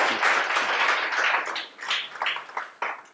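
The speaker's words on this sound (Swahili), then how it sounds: "Asante, tupige makofi mwalimu Olome" An audience at a school Kiswahili arts event applauds a teacher, Olome, with loud dense clapping close at hand. The clapping thins to a few scattered claps near the end.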